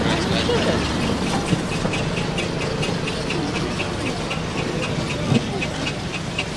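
A two-cylinder steam engine with no flywheel, driven by a disc crank, runs at a steam rally, giving a steady hissing chuff with faint regular beats beneath a broad outdoor hum, a few louder knocks standing out.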